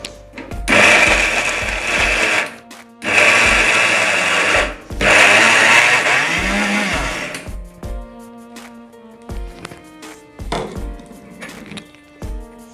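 A mixer grinder whirs loudly in three bursts as it grinds sesame seeds and jaggery, each run a few seconds long with short pauses between, then quieter clatter and knocks of the jar afterward.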